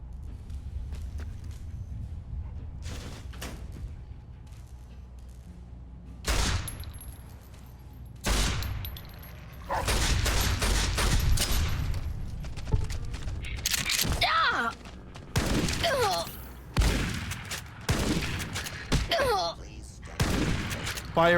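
Turret gunfire in Fallout New Vegas comes as several loud, sharp bursts of shots separated by quieter gaps, with a voice talking in between.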